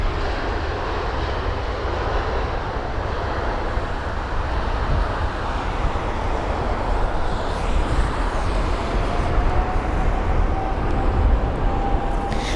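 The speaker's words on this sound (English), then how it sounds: "another Wookiee from that A320neo" An Airbus A320neo at London Heathrow roars steadily as it passes, with a broad, loud engine rush and a faint, high whine rising near the end.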